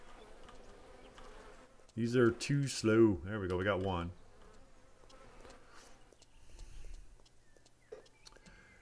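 Bees buzz around hives in the video game Lumberjacks Dynasty, a loud close buzzing burst for about two seconds, then fainter ambience while someone speaks quietly over it.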